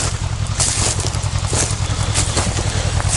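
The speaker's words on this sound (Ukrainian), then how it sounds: "Як Т-40 тарахтить щось" A T-40 tractor engine rattles and chugs steadily and loudly throughout in a sunflower field, with a harsh low drone and some wind buffeting.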